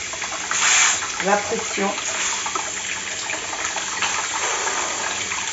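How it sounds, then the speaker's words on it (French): Cold tap water runs over the lid of a pressure cooker to release its pressure, a steady broadband rush, loudest near the start, continuing under a voice talking close by. "Je fais couler l'eau froide sur le couvercle pour enlever"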